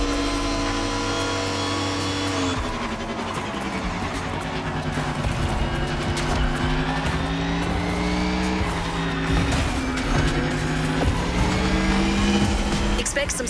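Race car engines roar and whine through gear changes in The Crew Motorfest, a loud continuous drone rising and falling in pitch with tire squeals, while a voice talks over it.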